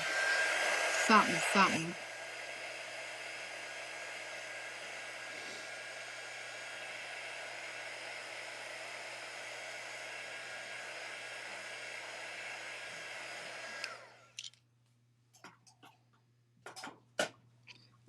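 Hair dryer blowing on a craft snowman, a loud steady roaring whoosh that runs for about fourteen seconds and then shuts off, followed by scattered small handling clicks and a brief spoken word.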